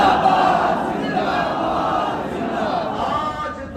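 A large crowd at a religious political rally chants slogans in a loud, sustained roar of many voices that swells and fades slightly but never stops.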